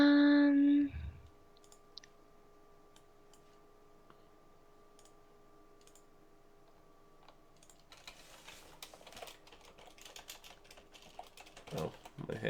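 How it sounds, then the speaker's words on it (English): Rapid, uneven keystrokes on a computer keyboard click close by at a quiet level, picking up into denser bursts near the end, with a brief louder noise at the very start. "my hand is totally off base on the keyboard. I'm hitting equals instead of backspace."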